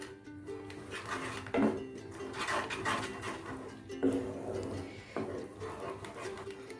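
Chili flakes, mixed herbs, black pepper and salt are stirred into a white sauce in a pan, heard as soft scraping and occasional clinks of a utensil against the pan, moderately close over a low background hum.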